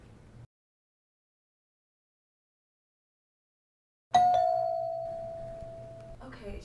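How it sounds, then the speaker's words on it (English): Near silence, then a doorbell rings out once: a sharp electronic chime that holds a steady tone for about two seconds before fading. "Somebody just rang the doorbell, so I have to go."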